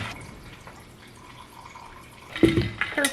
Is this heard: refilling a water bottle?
yes